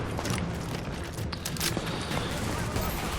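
Dense, continuous bursts of automatic gunfire crackle through a firefight in The Division multiplayer, layered with mechanical clatter and people talking over the shooting.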